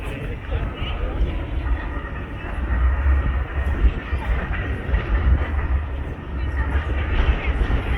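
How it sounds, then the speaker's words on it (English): A tram rolls along an Oslo street on an evening walk, a steady low rumble with rail clatter lasting throughout, fairly close and loud, with faint voices in the background. "They also have trams here."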